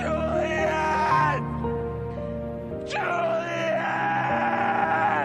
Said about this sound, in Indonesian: Ia pun berteriak dan menangis akan kepergian Juliet.